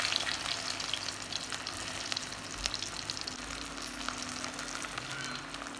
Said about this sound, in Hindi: सब आलू में दोनों तरफ ले बढ़िया से तल लेबो लाल जो ले